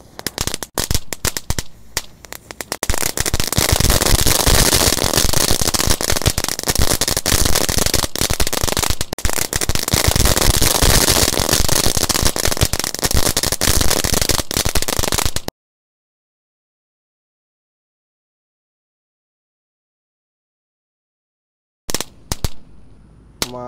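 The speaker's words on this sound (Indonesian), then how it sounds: "Di sini ada telur dino pratek yang kita susun melingkar guys. Semoga bisa menyala semuanya." A ring of dino egg firecrackers goes off in a dense, continuous crackling barrage of sharp pops for about twelve seconds, then stops dead into silence before a few last bursts.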